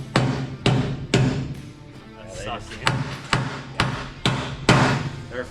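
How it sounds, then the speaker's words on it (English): Sharp hammer blows ring out one after another, about eight loud strikes with a short pause midway, each leaving a brief metallic ring. "hit that with a hammer"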